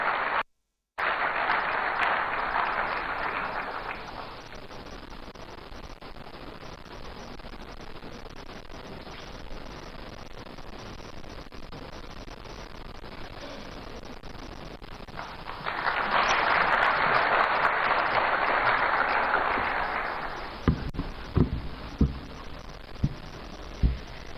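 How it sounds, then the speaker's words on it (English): Audience applause for the host MP, Dr. Zaneto Rawlings, at a public dialogue event in Ghana: a loud burst of clapping, a quieter stretch, then a second swell of applause ending in a few sharp isolated thuds. "Please, a round of applause for Dr."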